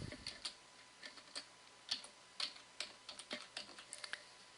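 Keys clicking on a computer keyboard as a name is typed into a search, a quiet, close run of irregular taps with no talking.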